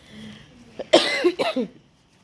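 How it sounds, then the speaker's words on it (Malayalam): A few harsh, close coughs from someone with a cold, bunched into a short burst after a quiet moment. "ജലദോഷം നല്ല ചുമയുണ്ട്"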